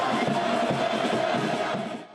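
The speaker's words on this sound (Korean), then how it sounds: "문재인 대통령이 모습을 나타내자 다시 한번 우렁찬 함성이 이어집니다." Crowd at an airport welcoming ceremony for South Korean President Moon Jae-in erupts in a loud, continuous roar of cheering and shouting, brief and dense, easing off at the very end.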